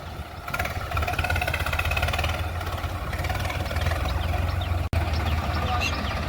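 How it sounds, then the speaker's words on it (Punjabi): A Swaraj 969 CRDI 4x4 tractor pulls a stuck trolley loaded with straw. Its engine drones steadily and loudly at close range, broken only by one very brief dropout near the end. "ਨੱਤਰ ਨੇ ਬਹੁਤ ਜ਼ੋਰ ਮਾਰਿਆ ਟਰੈਕਟਰ ਨੇ"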